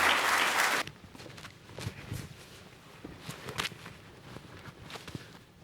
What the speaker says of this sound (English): So give this panel a round of applause to come to the table.